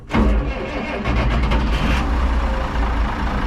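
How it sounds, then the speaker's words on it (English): An old tractor at a fall farm auction preview cranks over and catches, then settles into a loud, steady engine rumble close by. "this tractor does run good"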